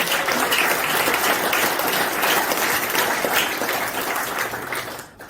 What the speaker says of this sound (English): Granny Campbell, a big round of applause